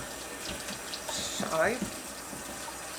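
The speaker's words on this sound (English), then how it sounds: "let me switch this tap off" A kitchen tap runs water into a sink with a steady splashing flow that swells briefly near the end, while a person talks over it.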